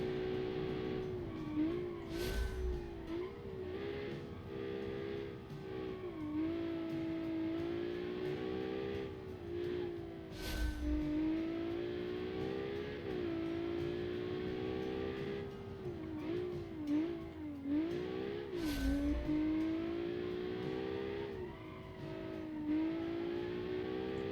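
A race car engine screaming in a racing video game, a continuous high revving whine that rises and dips through gear changes, with occasional sharp bursts, loud and steady throughout.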